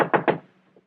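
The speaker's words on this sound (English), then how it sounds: "Knock again." Two firm knocks on a door in an old suspense radio drama, close and distinct, followed by a faint quieter tap and silence.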